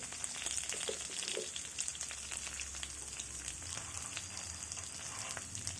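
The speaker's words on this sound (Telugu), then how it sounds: "కొద్దిగా వేసిన పప్పులు ఫ్రై చేసుకోవాలి" Cashews and almonds frying in hot tempering oil with turmeric for a tamarind rice dish, a steady close sizzle with dense crackling and a few soft stirring scrapes, continuous throughout.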